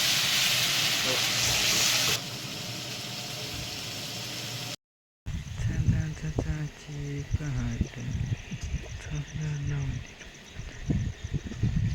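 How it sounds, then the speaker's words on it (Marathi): A ground masala paste for a crab curry sizzles and crackles as it is sautéed in oil outdoors, a steady close frying hiss with scraping stirs and a voice speaking over it. "वाटण चांगलं तेल सुटेपर्यंत परत आपल्याला परतून घ्यायचं याच्यावर."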